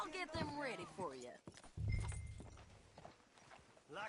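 Horse hooves clip-clop steadily in a PS4 video game, a rhythmic walking beat running beneath in-game character dialogue and loud voices.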